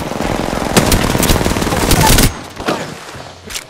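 Loud, rapid automatic gunfire in the video game Apex Legends, a sustained burst of over two seconds followed by a few scattered shots with a voice speaking over the action.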